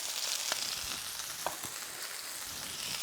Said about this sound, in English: that will continue to sizzle away